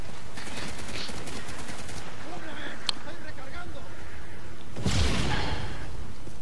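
Rapid bursts of automatic gunfire ring out in Call of Duty: Modern Warfare 3 during an extreme Domination match on the Dome map, with crackling volleys at the start and a heavy blast near the end over steady game noise.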